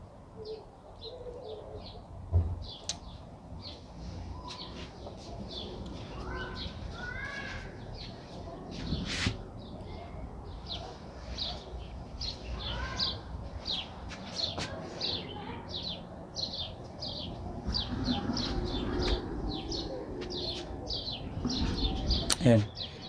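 Birds chirping outdoors, picked up by a Boya BY-M110 smartphone microphone, repeated short tweets scattered throughout at moderate distance, with quiet ambient noise and a few louder bumps.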